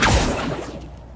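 An Incendio fire spell whooshes out in Hogwarts Legacy, a loud burst of rushing flame that fades away over about a second.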